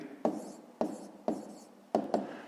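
A pen or pencil writes numbers by hand on paper, heard as close, soft scratching strokes in short bursts with brief pauses between them.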